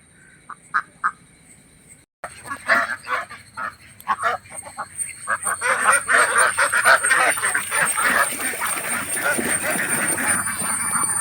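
Native Kuttanad ducks on the water in Kerala, a few isolated calls that break into a loud, dense chorus of overlapping quacks and honks lasting to the end, with frog-like croaking texture mixed in.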